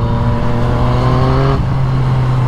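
A Yamaha MT-09 motorcycle engine revs up loudly with rising pitch, then drops back to a steady idle rumble, close by.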